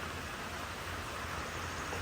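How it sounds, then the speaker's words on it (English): Steady rainfall, a constant even hiss of drops with a low rumble beneath, no voices. "That would be rain"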